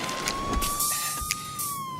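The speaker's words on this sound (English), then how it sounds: "Police cars." A police car siren wails steadily at close range, its rising and falling tone running throughout over a low rumble of street noise.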